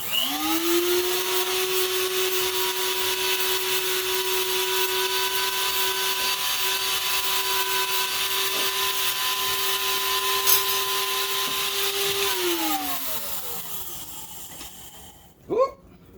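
An electric grinder runs steadily in a kitchen, a loud sustained whine for about twelve seconds that then winds down as it switches off, followed by a brief clunk.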